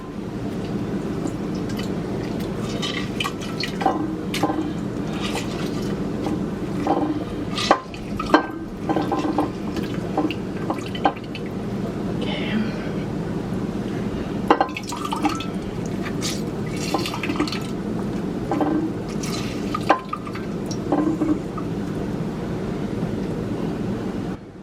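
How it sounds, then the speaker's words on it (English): Oranges squeezed by hand for French lemonade, juice dripping and splashing into a container with wet squishing and occasional louder drips, close and steady throughout. "I'm going to take my oranges. And I'm going to squeeze these by hand."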